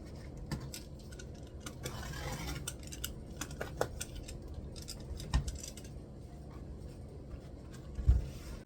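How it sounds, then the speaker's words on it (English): Scissors cut through green deco mesh for a St Patrick's Day wreath, producing a long run of faint, scattered clicks and crinkly snips at a steady working pace, close and quiet, with no voices. "So I'm going to cut 10 pieces of this deco mesh at 20 inches each."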